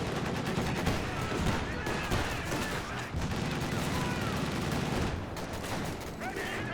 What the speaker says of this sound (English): As we're just getting nice and suppressed there from the AA gun